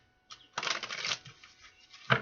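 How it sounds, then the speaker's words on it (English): A single quick riffle of playing cards being shuffled, a soft fluttering burst followed by a short snap at the end, close and quiet. "One more shuffle."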